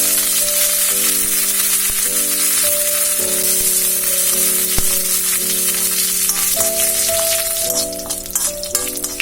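Curry leaves hitting hot coconut oil, with mustard seeds, fenugreek and chillies, to temper a ripe mango pulissery. A steady, dense sizzle hisses throughout, with music playing underneath.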